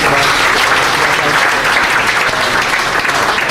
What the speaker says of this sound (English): We can also give him a round of applause for joining us this evening.